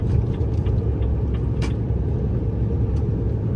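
Heavy, steady road rumble and engine drone from inside a fast-moving car overtaking on a highway, with a few faint clicks over the noise.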